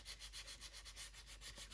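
Rhythmic back-and-forth sanding strokes smooth epoxy sculpt where it meets the surrounding wood on a carved palm frond loon decoy, with about a dozen quick, even rubs close up and no talking.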